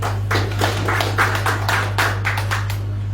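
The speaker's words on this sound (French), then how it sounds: "On applaudit une fois de plus, mesdames et messieurs" An audience claps steadily in a room, a brisk run of hand claps with a low electrical hum underneath.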